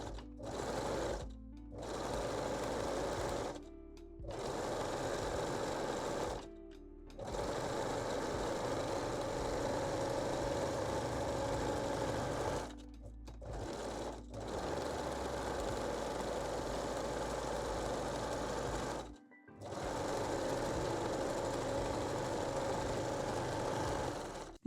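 A sewing machine stitches fold-over elastic along the underarms of a lingerie bodysuit, running in steady bursts of several seconds each, broken by short pauses, close and alone.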